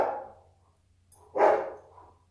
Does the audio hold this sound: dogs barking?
yes